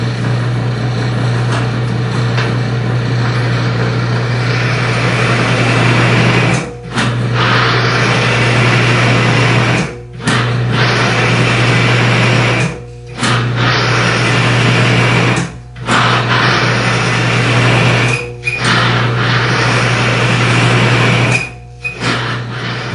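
A bearing friction test machine running with engine oil hums and whirs steadily at close range, its loud mechanical drone broken by several brief pauses where it cuts out.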